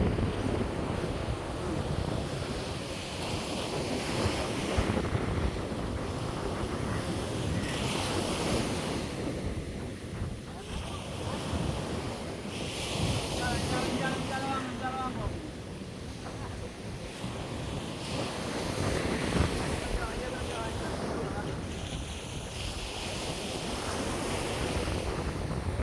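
Steady ocean waves and surf on open sea from aboard a fishing boat, with strong wind buffeting the microphone and a constant loud rushing roar throughout. Faint talk barely shows under it.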